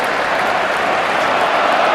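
Spectators at a cricket Test match cheering and applauding together, a dense, sustained roar of the crowd heard from a distance without a break.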